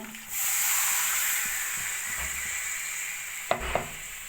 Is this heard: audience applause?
no